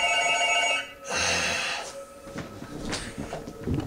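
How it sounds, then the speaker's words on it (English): A telephone rings loudly near the start, then fades into quieter clattering background noise. "Really, I went 10 minutes almost with no phone ringing"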